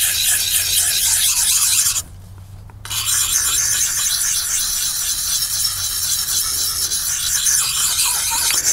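Knife blade drawn across the fine side of a Lansky Puck sharpener, a steady close rasping scrape of repeated strokes with a short pause near the start, no talking.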